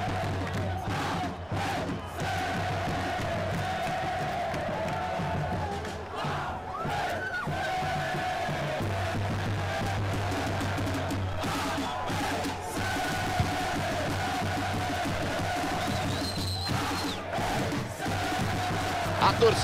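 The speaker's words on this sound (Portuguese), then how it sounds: "A torcida solta o grito do fundo da alma, do fundo do peito." A simulated stadium crowd in FIFA 23 roars and chants continuously through a Brazilian Série B match between ABC and CRB, a dense steady wall of voices with a commentator talking over it.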